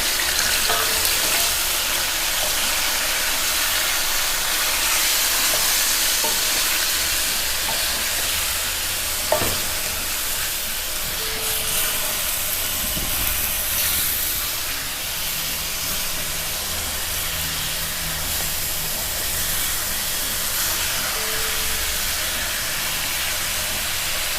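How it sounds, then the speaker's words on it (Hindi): Meat sizzles steadily in hot mustard oil, a loud, continuous frying hiss with occasional faint clinks and no talking. "ये गोश्त हमारा फ्राई हो रहा है।"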